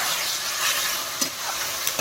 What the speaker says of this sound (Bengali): আমি আদা আর জিরে বাটাটা ঢেলে দিলাম তেলের ওপরে এটা আমি একটু নাড়তে থাকবো